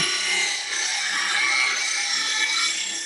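A bench grinder sharpens a woodturning tool, producing a steady, loud, bright grinding hiss that runs continuously with slight shifts as the steel is moved across the wheel.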